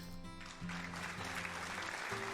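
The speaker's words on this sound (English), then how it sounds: "The audience applauds" A crowd claps steadily in sustained applause in the video game Cinderella Phenomenon, with low tonal hums and game-like background music underneath.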